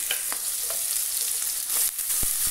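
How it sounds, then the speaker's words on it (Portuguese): Eggplant and tomato sautéing in a pan give off a dense, continuous hiss with a few faint knocks and stirring clicks, close by and unaccompanied by speech. "Agora, já irei refogar a berinjela e o tomate."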